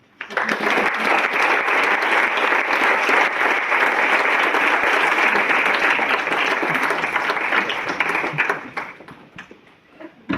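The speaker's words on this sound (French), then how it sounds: "On peut l'applaudir." An audience breaks into full applause for Camille, starting abruptly and holding dense and steady for about eight seconds before thinning out and fading near the end.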